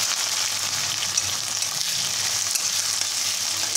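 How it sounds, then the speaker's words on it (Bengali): Sliced onion fries in hot oil in a wok with cumin and bay leaf, giving a steady, dense sizzle close by that continues without a break. "এই যে পেঁয়াজটা এখন ভাজা ভাজা করে নেবো"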